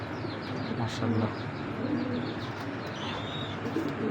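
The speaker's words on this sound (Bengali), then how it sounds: "দর্শক এখন দেখো পাকিস্তানি গোল্ডেন জাতের কবুতর" Pakistani Golden pigeons, a breeding pair, coo softly and repeatedly at close range, with faint chirps and a steady low room murmur behind them.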